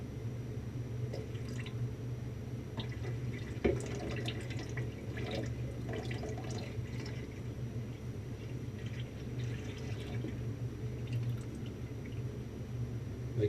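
Lye water made from wood ash is slowly poured into oil for soap, giving a faint, steady liquid trickle over a constant low hum, with no talking.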